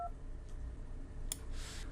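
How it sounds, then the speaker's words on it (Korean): Smartphone dialing a saved phone number from a speed-dial contact, a brief electronic tone and short keypad beeps heard faintly over a quiet background hiss. "그러면 해당 전화번호를 누르게 되면 그 전화번호로 전화가 걸리게 됩니다."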